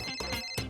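A phone rings with an incoming call in a busy hotel setting, a short melodic ringtone burst rising over background chatter and noise.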